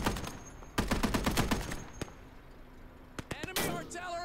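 Gunfire in the video game Gates of Hell: a rapid burst of close shots, then scattered single cracks and a final volley, with a voice speaking briefly between them.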